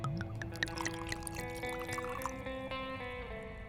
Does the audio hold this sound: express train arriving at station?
no